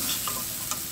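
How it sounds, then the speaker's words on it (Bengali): Spice paste frying and being stirred in oil for a river sarputi fish curry, with soft sizzling and a few faint scraping stir sounds close by across one second. "দেখো বন্ধুরা, তেলটা কিন্তু ছেড়ে দিয়েছে, আর এদিকে কিন্তু মশলাটা আমার প্রায় কষানো হয়ে গেছে।"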